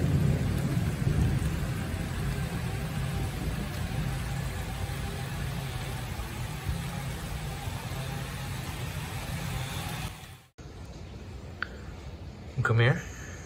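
Heavy rain from a thunderstorm pours steadily in a dense, loud wash heard from a back porch, then cuts off abruptly near the end, leaving a quieter room where a brief voice is heard.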